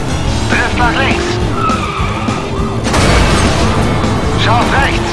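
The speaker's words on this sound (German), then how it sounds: "Drift nach links!" Tires squeal loudly as a car drifts in the video game Stuntman Ignition, repeated skids over roaring engine noise with a heavy thump midway, while a voice talks over the action.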